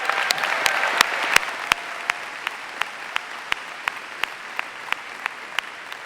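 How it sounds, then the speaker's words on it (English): Large outdoor college commencement crowd applauding, a dense wash of clapping with regular sharp louder claps standing out and fading slightly over time. "Give them another round of applause"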